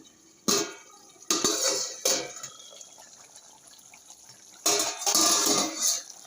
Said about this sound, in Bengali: ঢাকাটা এবার খুলে দেখি এটা কি পরিস্থিতি হলেও